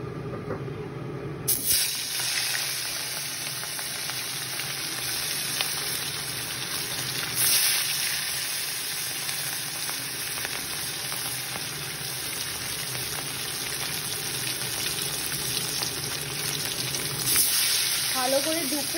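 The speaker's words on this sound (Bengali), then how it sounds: "তেলটা গরম হয়ে গেছে, এবার আমরা এক এক করে মাছটা ছেড়ে দেব।" Rui fish pieces go one by one into hot oil in a kadai and fry with a loud, steady sizzle and hiss. A sudden burst at the start settles into continuous crackling, with some speech faintly in the background.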